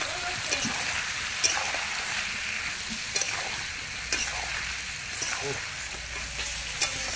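Dried fish curry stir-fried in a pan, with a steady loud sizzle and the scrape of a spatula knocking against the pot several times, and faint voices in the background.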